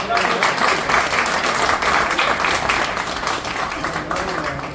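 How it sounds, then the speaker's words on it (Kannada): Dense, continuous clapping from a crowd at a devotional gathering fills the space, loud and steady throughout, with voices mixed in underneath. "ಜೋರ ಚಪ್ಪಾಳೆ"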